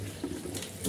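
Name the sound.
washing Malabar spinach leaves in water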